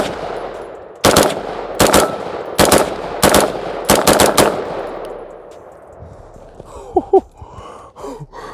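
A homemade, scratch-built gun fires the rest of its magazine outdoors: loud, close, sharp shots in single and double bursts with short gaps between them, followed by quieter breathing and shuffling once the shooting stops.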